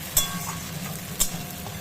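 A spoon stirs onions and tomatoes in a sizzling pan, with a soft steady fry hiss and two sharper clinks against the metal.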